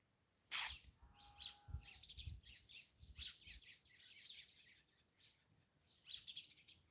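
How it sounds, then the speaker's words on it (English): Birds sing outdoors in a run of bright, repeated chirps and warbles at moderate distance, with one sharp knock early on and no talking. "the birds are so beautifully singing"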